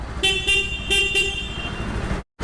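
A Rouser NS 160 FI 2022 motorcycle horn honks twice in quick pairs, short bright toots close by, followed by a longer held honk that cuts off abruptly.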